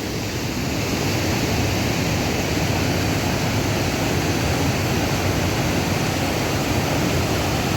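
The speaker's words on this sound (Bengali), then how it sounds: "এই যে দেখুন কি ভয়ঙ্কর স্রোত" A strong monsoon waterfall torrent near Dhanbad rushes in a loud, dense, continuous roar of water that holds steady throughout, heard up close with no voices.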